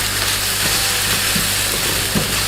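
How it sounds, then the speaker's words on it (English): Chopped onions fry in olive oil for Hungarian goulash, a loud, close, continuous sizzle with faint occasional stirring scrapes. "If you find your onions are sticking a bit, then just wave some olive oil at it."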